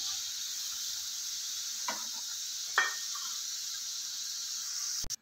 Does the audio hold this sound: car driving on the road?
no